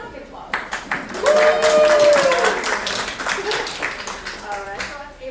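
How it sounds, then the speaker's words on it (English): A small audience at a real estate lead generation class claps briefly, with lively voices and a whoop mixed in over the scattered, uneven clapping. "Hey guys, come on, get applause."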